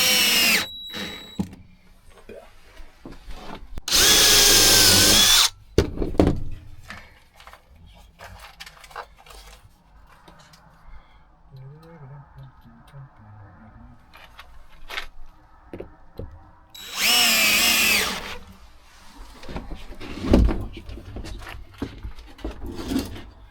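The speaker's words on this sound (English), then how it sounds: "So we're just screwing down onto the batten so it doesn't" A power drill drives screws through van floor boards down onto wooden battens, in two loud bursts of a couple of seconds each with quieter handling and knocking in between.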